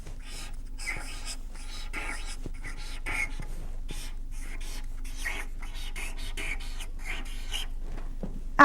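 Pen scratching on paper in short, rapid strokes with small pauses between words, close and soft over a faint steady hum, with no speech.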